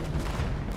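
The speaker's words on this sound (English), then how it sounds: "Artillery." Artillery fire in Fallout 76, a dense, continuous low rumble of distant blasts rolling together without clear gaps, steady and moderately loud for under a second.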